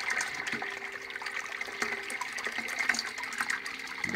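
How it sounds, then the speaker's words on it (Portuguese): Water poured into a homemade Braumeister-clone brewing kettle holding swelling malt, a steady continuous rush and splash close by with small clinks, no voices. "Vou botar mais 2 litros d'água para a resistência não ficar"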